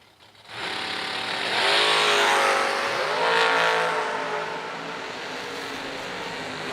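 A Camaro Roadster launches on a drag strip during a hot July 4th race, its engine roaring up through the gears in a loud rising wail with a brief shift dip before fading as the car pulls away.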